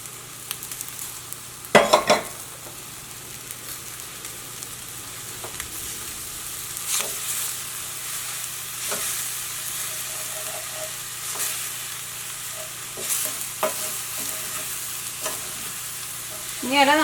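Chopped spinach leaves and egg sizzle and fry in a pan, with a steady crackling hiss and occasional stirring scrapes and clinks, close and alone.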